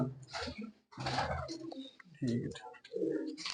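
Pigeons coo close by in soft, throaty bursts, overlapping with people talking nearby.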